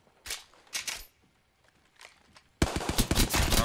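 Apex Legends gunfire: a few separate bursts of shots at first, then a dense, loud sustained volley of rapid fire that runs to the end, no talk over it.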